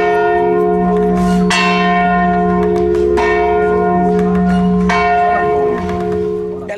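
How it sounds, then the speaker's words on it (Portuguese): Church bells of Nossa Senhora do Carmo in Ouro Preto ring loud and close, with several struck peals blooming over a sustained, shimmering hum of overlapping tones. "uma das coisas imperdíveis aqui em Ouro Preto é ouvir as badaladas dos sinos de Nossa Senhora do Carmo"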